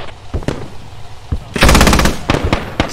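Gunfire in the tactical shooter Squad: a few scattered single shots, then a dense automatic burst, followed by more sporadic cracks, loud and close.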